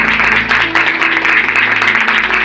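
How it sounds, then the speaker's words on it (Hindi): A church congregation claps loudly and steadily to thank God on the first Sunday of the year, a dense wash of many hands close by, with a low sustained musical hum underneath. "इसके लिए जोर से ताली के साथ प्रभु का धन्यवाद करेंगे।"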